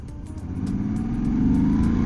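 The engine of a 2024 Moto Guzzi V85TT motorcycle pulls up from low revs during a ride test, its pitch rising in one steady, growing acceleration. It sounds close and loud.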